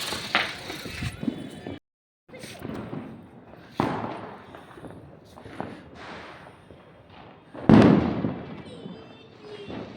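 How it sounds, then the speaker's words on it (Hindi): Leftover Diwali fireworks and firecrackers burst in Rae Bareli on the day after the festival, sharp cracks and pops spaced every couple of seconds, some near and loud, over a steady background din with people talking. "सारे पटाखे दग चुके थे, ये जो बचे हैं तो आज जल रहे हैं।"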